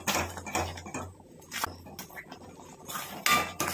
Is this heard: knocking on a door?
no